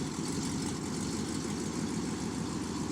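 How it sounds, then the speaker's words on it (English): A 1988 GMC Sierra with a 5.7-liter 350 small-block Chevy V8 idling after a cold start in snow, a steady low rumble held at an even level with no talk. "let's get in here and see if this thing starts"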